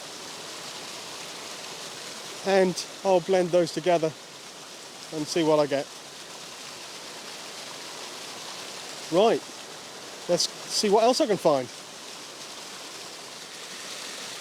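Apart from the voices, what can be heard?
waterfall and stream on Dartmoor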